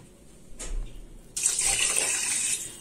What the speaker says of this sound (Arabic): ميه من الحنفيه ادي واحد وادي المج التاني